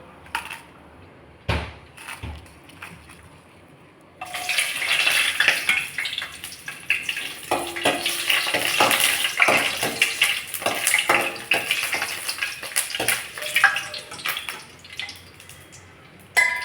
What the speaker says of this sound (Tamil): முதல்ல நம்ம இந்த வரமிளகாயை மட்டும் வறுத்து எடுத்துக்குவோம்.